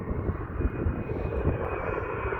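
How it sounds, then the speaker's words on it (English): A fixed-wing aircraft approaches at Dulles airport, its engine roar a steady broadband rush with a faint whine, heard from a moderate distance throughout with no talking. "Guys, we have an aircraft coming."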